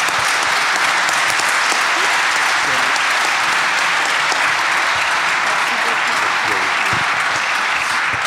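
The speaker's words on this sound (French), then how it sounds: "Alors on sort les mains de ses poches pour applaudir." Steady, dense applause from an audience at the ESS prize-giving ceremony, continuous and loud for the whole stretch, with faint voices beneath.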